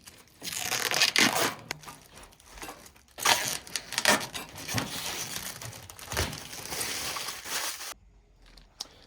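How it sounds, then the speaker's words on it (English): Protective plastic film peeled off a stainless steel outdoor heater part, giving bursts of close, crackly tearing and crinkling over several seconds, then a brief quiet stretch with a few small rustles at the end. "this is just a nice little plastic cover on the stainless steel so it doesn't get scratched. So we'll peel this off."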